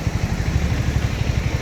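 A KTM Duke 250 motorcycle engine runs steadily near idle with a low, rhythmic throb, close and fairly loud, with no voices over it.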